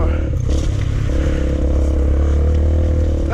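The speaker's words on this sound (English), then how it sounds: "It's got to be the huge blow in my exhaust" A motorcycle engine with a badly blown exhaust runs loud and close on a green lane, a rough, rattly, crackling drone with uneven revs and no talk.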